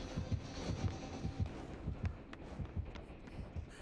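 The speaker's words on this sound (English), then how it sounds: "I heard his heartbeat is like super fast." A killer's heartbeat terror radius in the video game Dead by Daylight, a steady, fast double-thump pulse throbbing low and continuous with no talk over it.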